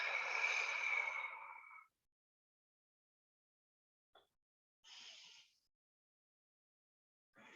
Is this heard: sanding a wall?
no